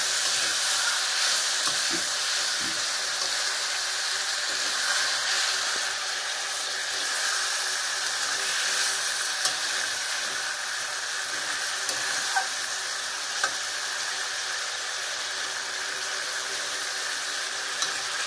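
Fish curry broth for a Bhola fish jhol with lentil dumplings hits a hot pan, giving a steady, dense sizzling hiss that holds close and even for the whole stretch, with a few faint clinks.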